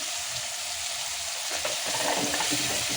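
Chopped tomato frying in a hot pan for a shrimp rice dish, a steady close sizzle with soft stirring scrapes that grow busier toward the end, no voices.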